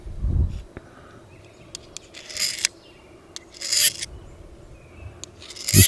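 Knife sharpening on a Lansky QuadSharp with a Scandinavian-grind blade, a few short rasping strokes spaced about a second apart, close and moderately loud, with light handling thumps and no talk.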